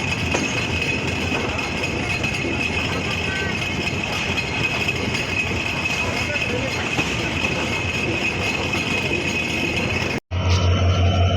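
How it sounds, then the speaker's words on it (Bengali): The Rupsha Express intercity train at Saidpur railway station makes a loud, continuous rumble with a faint high whine, steady for about ten seconds before a brief cut and a quieter hum. "আন্তনগর রূপসা এক্সপ্রেস ট্রেনটি খুলনার উদ্দেশ্যে ছেড়ে যাচ্ছে"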